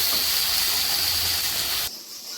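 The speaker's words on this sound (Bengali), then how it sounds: "তো টমেটোটা একটু কষিয়ে নিই" Tomatoes frying in a pan for a Bengali home-cooked dish, giving a steady loud hiss and sizzle that cuts off abruptly near the end, leaving quieter residual crackle.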